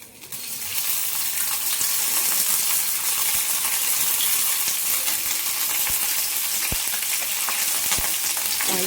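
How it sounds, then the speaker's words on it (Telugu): Green chillies frying in oil in a pan for a spicy tomato chutney, a loud, close, continuous sizzle and crackle that swells up quickly and holds steady, with scattered small pops and clicks and no talking. "ఇప్పుడైతే పచ్చిమిర్చిని వేపుకుందామండి. ఫస్ట్ పచ్చిమిర్చి వేగేటప్పుడు కొంచెం ఆయిల్ పోసుకుందామండి."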